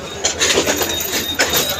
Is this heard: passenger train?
yes